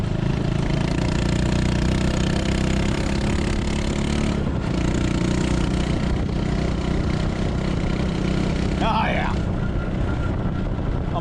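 Honda Super Cub motorcycle towing a trailer runs with a steady engine drone and some revving, mixed with wind and road noise throughout.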